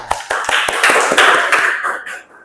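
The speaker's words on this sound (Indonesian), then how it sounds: "Oke, terima kasih, tepuk tangan." A classroom of students claps in a short burst of applause, sharp overlapping hand claps close by that thin out and fade after about two seconds.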